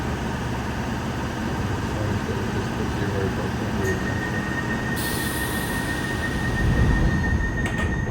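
A London Underground Piccadilly line train runs with a steady, loud rumble and a thin, high wheel squeal overhead, heard from inside the carriage.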